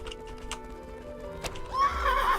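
A horse in a medieval-style combat video game clip-clops along and then lets out a loud whinny, with faint clanking game sounds around it.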